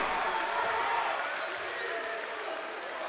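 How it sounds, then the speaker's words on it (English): Fans applauding at a men's semi-final basketball game in the Hoopsfix Pro-Am: a steady wash of crowd clapping that holds throughout, with a voice talking faintly underneath. "Fans are applauding"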